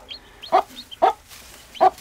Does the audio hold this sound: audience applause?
no